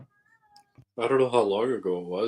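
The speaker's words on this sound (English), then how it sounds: "That's my cat. If you can hear it, he's just in a crying mood right now." A pet cat in a crying mood lets out a long, loud, drawn-out meow followed by a second wavering cry, close to the microphone, with someone talking at the start.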